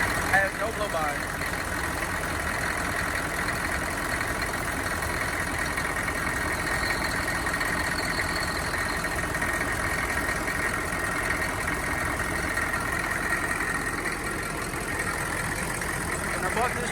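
Steady close-up idle of the 1994 Chevy Silverado C3500's rebuilt 6.5L diesel engine, with a continuous rough clatter and low drone at an unchanging level throughout.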